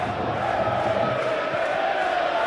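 A stadium crowd in the Football Life 2023 football game gives off a steady, dense roar of voices that holds evenly without distinct peaks, filling the background.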